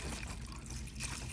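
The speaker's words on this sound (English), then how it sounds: "So we're gonna pour our water" Water poured into a bucket of soil for soaking a celery root, a soft continuous trickle and splash, quiet and close, with no talking.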